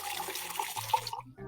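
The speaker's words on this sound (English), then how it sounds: "would you pour me one of your Pilsner beers, please?" Pilsner beer drawn from a bar tap in the game Truberbrook, a short steady splashing pour that cuts off after about a second, followed by a faint low tone.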